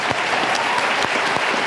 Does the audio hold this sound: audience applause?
yes